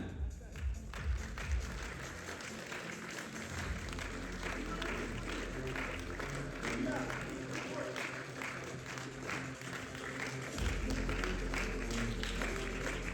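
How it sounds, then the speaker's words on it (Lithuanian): A crowd at a bodybuilding competition in Prienai applauds a muscular competitor, sustained, fairly faint clapping in a large hall with a low rumble and murmuring voices throughout. "pati raumeningiausia audringais plojimais palaikykime"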